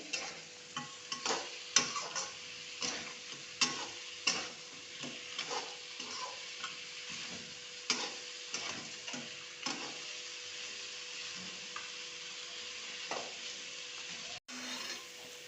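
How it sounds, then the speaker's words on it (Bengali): Scraping and stirring of fried fish heads in spices in a pan with soft sizzling, irregular clinks and scrapes repeating for several seconds, close by, no talking. "ভাজা মাছের মাথাও দিয়ে এবার ভালো করে নাড়াচাড়া করে নিচ্ছে"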